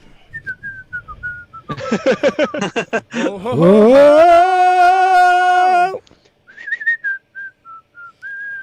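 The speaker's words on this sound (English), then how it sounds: "Someone else whistle." A person whistles a melodic tune, first a few thin notes under laughing voices, then a loud run of sustained, wavering pitches for a few seconds before chatter and light whistling resume.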